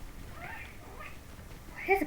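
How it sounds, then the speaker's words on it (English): A pet cat meowing softly a few times, faint and close, ending in a short, clearer meow, with low background noise. "There's a good cat."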